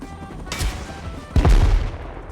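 Video game gunfire shooting out a clan's defensive turrets, heard as two loud bursts of shots, the second heavier and closer, with low booming impacts between them.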